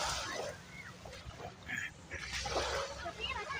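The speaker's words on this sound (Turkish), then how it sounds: "köpeğe bak nasıl yüzün ya" Water splashing and sloshing as a dog swims nearby in the sea, with people talking over it.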